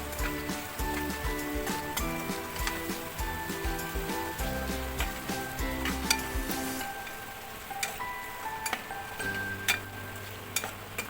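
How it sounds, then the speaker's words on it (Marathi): Garam masala, red chili powder and turmeric being stirred and fried in a pan for a Marathi-style pavta masala rice, giving a soft steady sizzle with scraping stir strokes over quiet background music. "गरम मसाला पावडर, लाल तिखट आणि हळद मिक्स करून घेऊ. सुगंध येईपर्यंत त्याला पूर्ण परतवून घेऊ."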